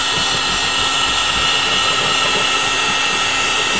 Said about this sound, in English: Just heat it up. Let the heat gun do the work.